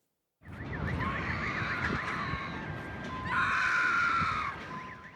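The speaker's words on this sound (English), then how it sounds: "Screams of terror as Kyiv comes under attack once more" Wailing cries and shrieks rise over a continuous siren-like tone during a morning rush-hour missile attack on Kyiv, with the screaming swelling louder partway through.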